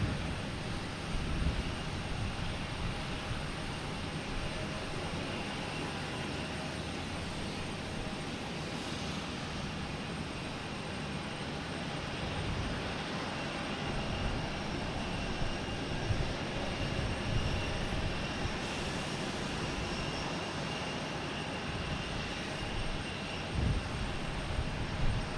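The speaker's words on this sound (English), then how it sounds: "Delta coming in from San Francisco" A Delta Airbus A321neo arrives from San Francisco to land at Boston Logan, its jet engines a steady, broad roar that holds for the whole stretch at a moderate distance, with no voices.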